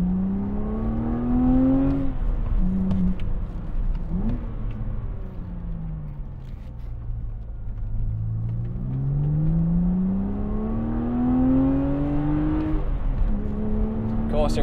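A BMW Z4 Coupe (E86) engine revs hard out to 7,000 RPM, pitch climbing and falling through gear changes, loud and sustained with a throaty rumble.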